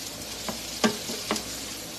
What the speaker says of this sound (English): So we're going to saute this for a minute.